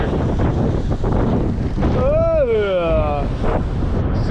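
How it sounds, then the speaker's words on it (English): Strong wind roars against the microphone amid rushing waves aboard a sailboat at sea, a continuous loud wash with a short shout rising over it midway. "the sooner this wind will quit and the waves will die off a bit"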